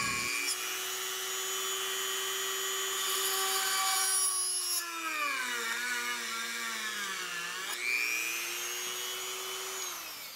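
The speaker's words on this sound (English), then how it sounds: "I might as well just drill these holes in there so I have something secure to mount them to" Power drill boring holes in a box case for a homemade flight simulator throttle quadrant, a steady high whine that dips and rises in pitch as the bit bites, loud and close throughout.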